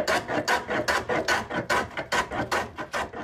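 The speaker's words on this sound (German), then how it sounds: "Dann mit einem Schrubhobel grob Schicht für Schicht abtragen." Scrub plane taking rough shavings off a wooden wagon wheel part, a close rasping stroke repeated about a dozen times in a steady quick rhythm, with no voices.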